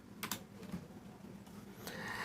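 Quiet, quick clicks of typing on a computer keyboard, a few irregular bursts of keystrokes heard close up in a calm room.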